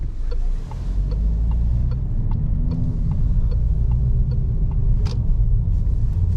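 Peugeot Blue HDi 130 HP car cruising at night through Zagreb on a warm evening, heard from inside as a steady low engine and road rumble with faint clicks, no speech.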